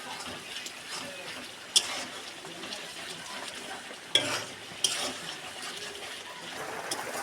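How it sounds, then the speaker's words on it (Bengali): Ground cumin and coriander sautéing in a pan, a soft steady sizzle with a few sharp clinks of the spoon against the pan as the spices are stirred, close by and without talk. "জিরে গুঁড়ো, ধনে গুঁড়ো, মশলাটা ভালো করে কষিয়ে নেব।"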